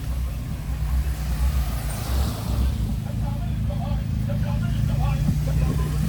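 Heavy road traffic stalled in a jam near Dumfries, St. Thomas, Jamaica, with a steady low rumble of idling cars, buses and trucks close by and brief air-brake hisses, under ongoing talk.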